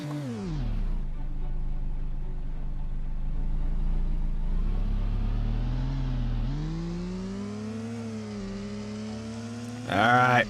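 A small hatchback's engine in the Fishton game hums and revs, its pitch sliding down, holding, then rising as it accelerates, with a brief louder clatter at the very end.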